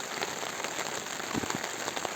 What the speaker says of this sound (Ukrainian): Закінчився дощик.